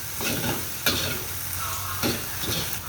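Mixed fried rice sizzles in a hot pan while being stirred, a steady hiss broken by a few sharp pops and crackles, close and fairly loud.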